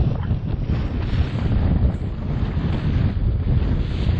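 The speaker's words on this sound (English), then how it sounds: "We're slowly making our way back across the lake because she's getting a bit choppy." A boat crosses a choppy Lake Nillahcootie on a cold, windy morning while out fishing. Steady, loud wind buffets the microphone over a continuous rumble of engine and slapping water, with no talking.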